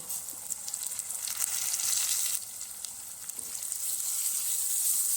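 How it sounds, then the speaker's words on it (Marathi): Finely chopped tomatoes fry with softened onion in a pan, a close, steady sizzle that swells louder after the tomatoes go in, with faint stirring clicks and no talking. "आता कांदा छान असा मऊ शिजलेला आहे यात आपण बारीक चिरलेले दोन टॉमॅटो टाकून घेऊ"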